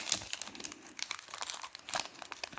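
Crinkly plastic wrappers of NFL Optic 2020 trading card packs rustle and tear close up in quick, uneven bursts, fairly quiet and with no talking.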